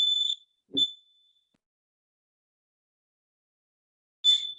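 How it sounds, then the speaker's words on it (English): A fire alarm sounds in short, piercing high-pitched beeps, a few separated chirps with silence between them, fairly faint. "We have a fire alarm, just 1 second."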